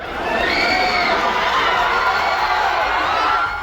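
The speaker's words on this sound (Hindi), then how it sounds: "दरअसल अपने चहेते सुपरस्टार की एक झलक पाने के लिए एयरपोर्ट के बाहर फैंस की भारी भीड़ जुटी हुई थी।" A huge crowd of fans gathers outside an airport to glimpse a favourite superstar, filling the air with loud, continuous cheering and high-pitched shouting that swells and holds steady.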